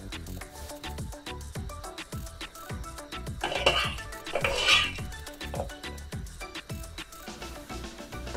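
Boiled cheese spätzle dumplings are drained in a pot, with a run of quick metallic clinks and scrapes of utensils against cookware, close and fairly quiet.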